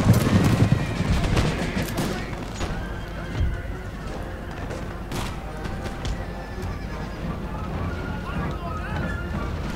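Musket volleys from militia troops in an Empire: Total War battle crack as scattered bursts amid a dense battlefield din, mixed with horse whinnies and clip-clopping hooves, with a voice speaking over it.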